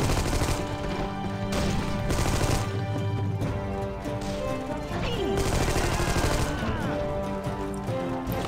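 Sniper gunfire in the Armed & Dangerous video game cracks out as a run of sharp shots over a dense, constant wash of game noise and music, with no one speaking.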